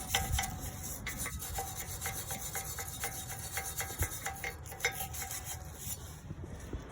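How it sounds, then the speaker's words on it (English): A steel wire brush scrubs brake parts of a 2000 Toyota Celica GTS during a front pad and rotor job, a continuous raspy rubbing with short repeated strokes and occasional metallic scrapes, heard alone without talk. "Then I'll be using a steel brush for some additional cleaning."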